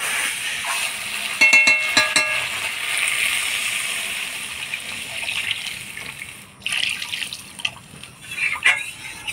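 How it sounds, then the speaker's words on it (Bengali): Water is poured into a cooking pot of fried, spiced potatoes, a steady close pouring and splashing with a few brief clinks near the start. "এবার জল দিয়ে দিব।"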